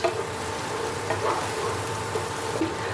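Around four tablespoons of butter melt in a pan, giving a low, steady crackling sizzle throughout with a few faint pops.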